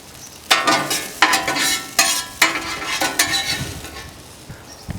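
Hash browns frying on a Weber Traveler 22-inch griddle, a soft sizzle broken by several sharp scraping strokes of a spatula against the flat metal, close and fairly loud, each scrape fading back into frying.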